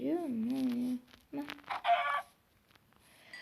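Chickens in the Minecraft video game make a few short, tonal clucks and squawks close up, separated by brief gaps of quiet game background.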